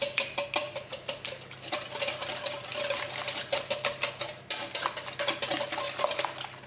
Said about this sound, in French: Et on va fouetter.